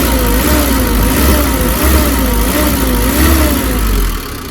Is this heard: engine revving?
yes